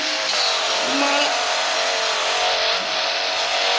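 A race car in a Roblox racing video game roars with a steady, loud engine drone throughout, with a brief rising squeal of tires about a second in.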